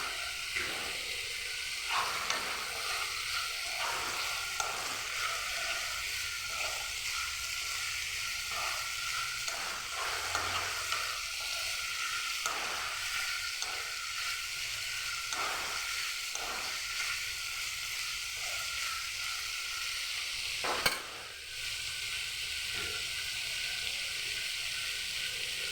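Paneer cubes fry in a hot pan with a soft, constant sizzling hiss close by, broken by faint scraping stirs and one sharp knock near the end, with no one speaking.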